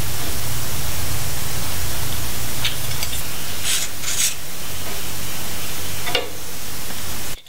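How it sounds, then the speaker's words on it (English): Continuous hiss of spray paint coating the inside of a welded skid plate for a Scorpion crawler, a loud steady spray with brief bursts and a sudden stop at the end. "So just going to give it a coat of paint on the inside."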